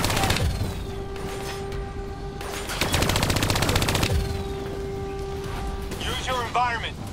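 Rapid bursts of hijacked turret machine-gun fire in the Call of Duty: Black Ops III game, loud and sustained over a background of game noise and other gunfire.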